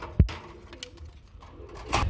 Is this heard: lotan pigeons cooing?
yes